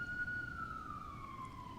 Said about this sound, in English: As a siren goes through my neighborhood